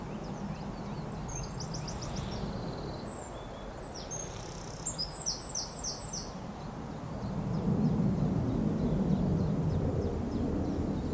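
Birdsong outdoors: bursts of bright chirps and trills over a steady rumbling background that grows a little louder toward the end, and nobody speaks.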